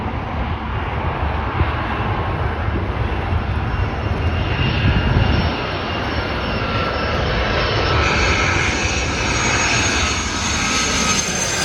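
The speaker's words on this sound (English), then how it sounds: "we got a Boeing 757-33N United Airlines from MCO" United Airlines Boeing 757-33N jet airliner at O'Hare, its engines giving a loud, steady roar with a rushing jet whine that holds nearby throughout, with no talking.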